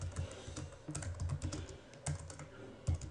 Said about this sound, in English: So you'll just excuse me while I'm typing.